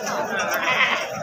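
A male goat at a Pakistani livestock market bleats loudly and close by in one wavering call, with people talking around it.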